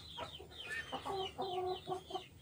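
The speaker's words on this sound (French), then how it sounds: "La padoue avec son poussin." A Padovana hen with her chick clucks in a run, a close series of short throaty clucks and soft calls in an uneven rhythm over faint background noise.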